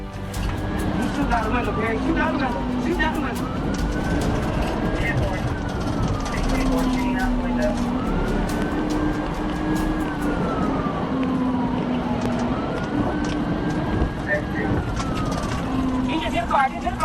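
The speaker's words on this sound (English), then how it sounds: "The officer immediately activated the siren and attempted a traffic stop." A police car siren wails in long rising and falling sweeps over engine noise during a high-speed pursuit, with voices talking underneath throughout.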